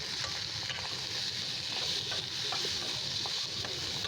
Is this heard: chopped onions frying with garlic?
yes